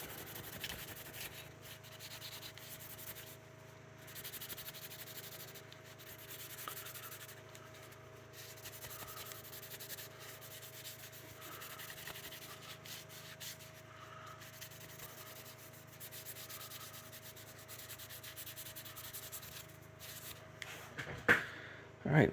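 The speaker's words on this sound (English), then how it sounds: "Let's give it a buffing." Steady rubbing as a knife's wood handle is buffed by hand after warming under a lamp, a continuous soft scrubbing close by with a light hum underneath and a couple of small knocks near the end.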